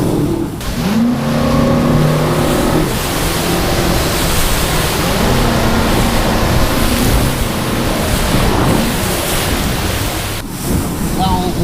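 A boat at sea in a heavy ocean swell, with a steady loud roar of wind, engine and rushing water surging across the whole stretch, under occasional faint voices.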